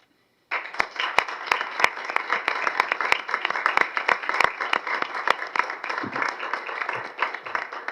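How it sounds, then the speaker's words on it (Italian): Farewell applause fills a council chamber, dense hand clapping starting abruptly after a brief silence and carrying on steadily at moderate loudness, with sharp individual claps standing out and a faint murmur of voices underneath. "avrebbe apprezzato un classico applauso di congedo come si usa alla fine di ogni rappresentazione"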